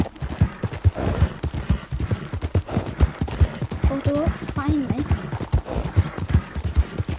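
Horse hooves clip-clop at a steady run in Red Dead Redemption 2, a quick rhythmic patter under almost constant talking, with a brief whinny partway through.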